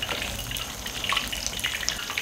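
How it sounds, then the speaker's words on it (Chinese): Eggplant deep-fries in hot oil over high heat, giving a faint, continuous crackle and hiss with scattered small pops. "这个时候我们就放入茄子进去炸，全程大火炸。"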